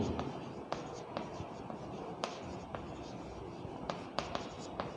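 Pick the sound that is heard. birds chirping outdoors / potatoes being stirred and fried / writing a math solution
writing a math solution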